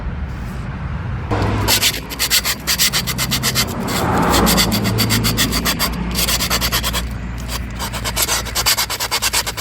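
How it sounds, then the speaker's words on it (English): Sandpaper is rubbed over sharp edges to dull them. The strokes are rhythmic and close, keep a steady scratchy pace for nearly ten seconds, and no one speaks. "So next, we need to sand."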